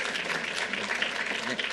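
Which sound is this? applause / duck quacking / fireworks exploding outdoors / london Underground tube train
applause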